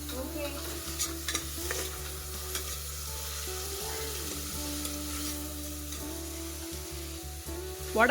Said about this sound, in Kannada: ಇದು ಫುಲ್ಲು ಬ್ರೌನ್ ಕಲರ್ ಆಗಬೇಕು, ಅಲ್ಲಿವರೆಗೂ ಫ್ರೈ ಮಾಡಬೇಕು